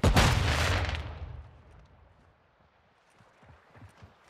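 Flash grenade going off in Call of Duty: Modern Warfare II at Zarqwa Hydroelectric, a loud close burst that rings out and fades over about a second, followed by faint scattered distant game noise.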